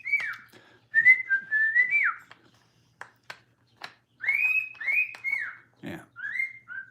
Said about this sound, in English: He's whistling Mayberry now.